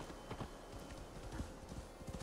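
Horse hooves clip-clopping at a fast gallop in Assassin's Creed Valhalla, a rapid, steady run of soft thuds at moderate volume with no talk over them.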